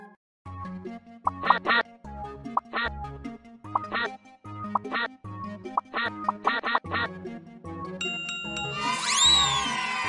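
Clusters of electronic duck quacks pop up rhythmically over light music in the game Teach Your Monster to Read, ending with a rising sparkly chime.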